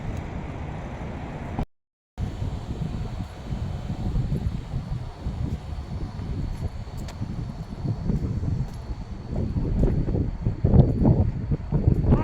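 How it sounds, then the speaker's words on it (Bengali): Gusty wind buffets the microphone in low, steady rumbles that swell and fade, loud and close, with no voices. "কি বাতাস"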